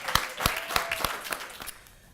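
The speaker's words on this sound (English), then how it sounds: "Everybody give a round of applause for our readers." Audience applause for the readers at an academic literary conference, a short burst of scattered hand claps that thins out and fades over about two seconds.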